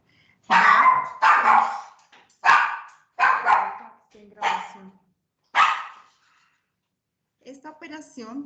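A small dog barks in sharp, loud bursts, six close barks spaced over several seconds, then fainter yips at the end, heard over an otherwise quiet room.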